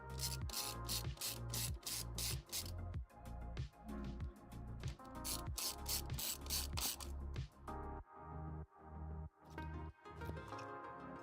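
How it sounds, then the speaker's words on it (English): Screws are removed from a computer motherboard with a ratcheting driver, giving close, rapid clicking bursts in repeated runs, with short pauses between screws and quieter clicks near the end. "we get our screws out"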